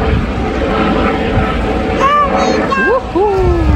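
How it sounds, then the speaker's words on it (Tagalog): A helicopter passes over a campsite at Busselton, Western Australia, making a loud, steady rotor and engine roar throughout while people talk over it near the end. "Ayan, may helicopter."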